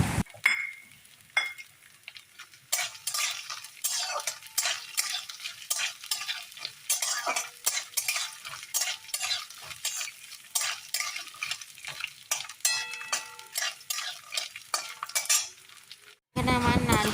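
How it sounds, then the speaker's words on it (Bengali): Peanuts and chopped coconut are stir-fried in a pan, with repeated scraping and clinking strokes of a spatula over a light sizzle, close and irregular, no voices. "নারকেল কুচিগুলোকে দিয়ে দেব এবং বাদামের সাথে একটু হালকাভাবে লাল"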